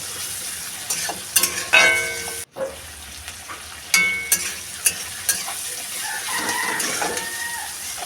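Onions sizzle in a pan for a desi chicken curry, with a spoon scraping and clacking against the pan at intervals. The frying hiss runs steadily underneath at close range.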